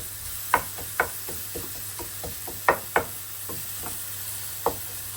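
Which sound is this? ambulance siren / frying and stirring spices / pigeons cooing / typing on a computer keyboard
frying and stirring spices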